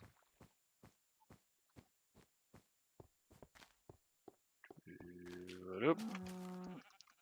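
A sheep in Minecraft, with a steady series of footstep taps followed by a loud, wavering bleat near the end, heard alone.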